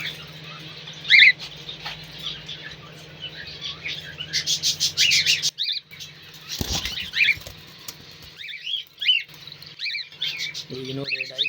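Breeder cockatiels with chicks flutter their wings in bursts and give sharp chirps and chattering calls, close by in a cage, with rustling between calls and no clear speech.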